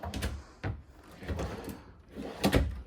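Several wooden drawers in a 2025 Montana 3901RK fifth-wheel RV slide open and shut, with sharp thumps as they close, nearby and alone.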